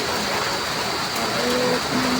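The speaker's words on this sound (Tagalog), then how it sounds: "Tuloy-tuloy pang malakas na buhos ng ulan." Heavy rain pours down in a steady, dense hiss with no pauses.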